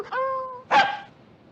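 A man imitates a dog with a can tied to its tail, giving a sustained whining yelp and then a short sharp yelp, both alone and close.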